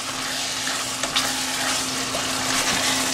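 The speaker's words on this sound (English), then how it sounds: "Now I'm going to add our chopped mint leaves and the coriander leaves. Mix it everything together" Chopped mint and coriander leaves being stirred into thick, bubbling mutton biryani gravy in a pan, a soft continuous sizzle with faint scraping strokes and occasional small taps, close and steady, no one speaking.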